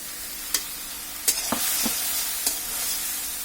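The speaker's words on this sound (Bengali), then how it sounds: "মশলাটাকে ভালোভাবে একটু কষিয়ে নিতে হবে।" Spice paste of salt, ginger-garlic paste and coriander powder fries in a pan, giving a steady soft sizzle broken by a few sharp scraping strokes of a spatula.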